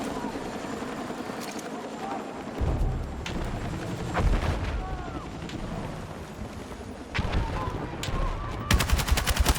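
War Wolf L85A3 rifle gunfire in Battlefield 6, with loud bursts of automatic fire and scattered shots among battlefield explosions, ending in a rapid close burst.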